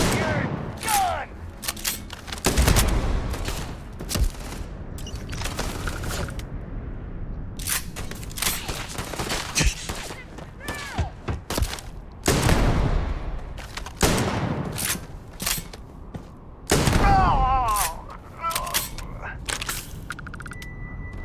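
Gunfire from the video game Starfield crackles in repeated loud bursts and single shots, mixed with impacts and game effects, while a player talks over the action throughout.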